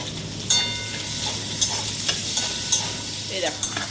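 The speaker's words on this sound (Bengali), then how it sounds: "পেঁয়াজটা দিয়ে দিচ্ছি" Onions hit hot oil in a pan for a mutton curry, a sizzling fry with repeated clinks and scrapes of a stirring spoon at close range, no voices.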